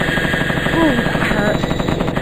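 An M60 machine gun firing rapidly in the 1995 PC game Mortal Coil: Adrenalin Intelligence, a loud continuous burst of rattling shots under game music and sound effects.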